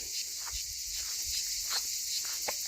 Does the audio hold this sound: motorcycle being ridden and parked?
no